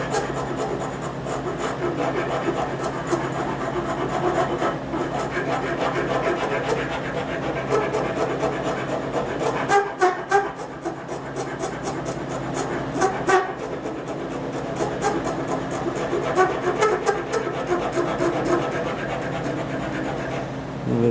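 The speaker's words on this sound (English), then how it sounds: "I'll take the file and get rid of the deep grooves" A hand file rasps steadily against the wooden knee block of a cabriolet leg clamped on a workbench, with continuous close-up scraping strokes and a few sharper knocks partway through.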